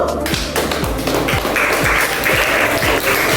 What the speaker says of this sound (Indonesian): Dari Raja Wali kita beri aplaus dulu